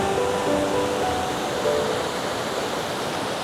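A stream in rural Chanfi Village flows under a bridge, a loud, steady rush of water with a broad hiss, constant throughout with no pauses and no voices.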